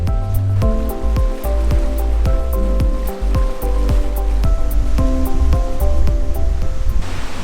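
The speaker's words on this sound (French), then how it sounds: "Il fait un vent du diable ici." Strong gusty wind roars outdoors near a stream at the Saut de Vézoles in the Hérault, a loud, steady broadband rush with buffeting against the microphone and scattered sharp knocks, continuous throughout with no voices.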